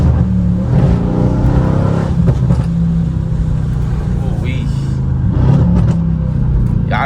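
A Mercedes-AMG fitted with catalyst downpipes revs loudly up close, its deep exhaust roar surging and easing in a few blips over a constant rumble.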